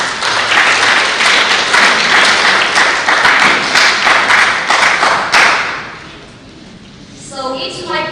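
An audience applauds a speaker at a youth public speaking competition, loud sustained clapping with distinct sharp claps that dies away, then a voice starts talking.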